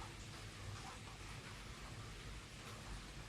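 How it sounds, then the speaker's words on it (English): Rain falls outside a breezeway as a steady, soft, even hiss with low rumbling texture, continuous and fairly faint, with no voices. "listening to the rain fall"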